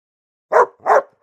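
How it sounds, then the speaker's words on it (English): A dog gives two short, sharp barks in quick succession, close and clear against silence. "A dog? You're right,"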